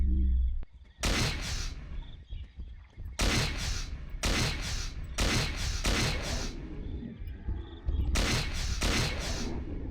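Crossbow shots in Carnivores Genesis while hunting a Carno dinosaur: five separate sharp, loud bursts spaced a second or two apart, each with a short ringing tail over quiet ambience.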